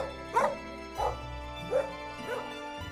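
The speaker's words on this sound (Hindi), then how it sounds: "तभी बाजू में खड़ा देवरानी का कुत्ता भी भौंकने लगता है" A dog belonging to a household barks four times in a short, evenly spaced series, close and moderately loud with a slightly whiny yelp to each bark.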